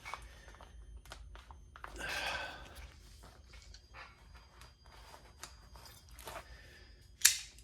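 Military rice ration packaging from a Japan Self-Defense Force ration being cut open with a bladed tool, giving a few short scraping and snipping bursts and a sharp final slice over a quiet background.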